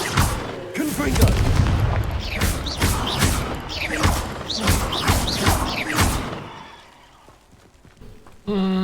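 Repeated booming spell blasts of Confringo in Hogwarts Legacy, a rhythmic series of heavy thumping impacts roughly every half second or so, fading out before a sudden final hit.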